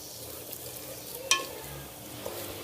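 Minced keema frying in oil with onion and tomato, a quiet even sizzle under a sharp metallic scrape of the spoon and a couple of light knocks.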